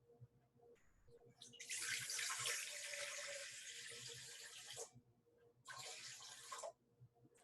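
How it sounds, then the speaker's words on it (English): Cool tap water gushes steadily into a bread mixing bowl for about three seconds, stops briefly, then runs again in a shorter burst, with a soft, close hiss. "so I'm going to start with some cool water."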